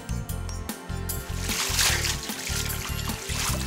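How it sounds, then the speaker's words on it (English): Water splashes and sloshes in short bursts over a steady, rhythmic backing track, with no voices. "Splashing water?"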